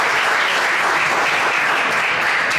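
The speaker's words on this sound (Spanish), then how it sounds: "Así que un aplauso, por favor." Steady, dense audience applause at a Spanish-language technical talk on advanced fuzzing with Burp Suite, a continuous wash of many hands clapping at even loudness with no voices.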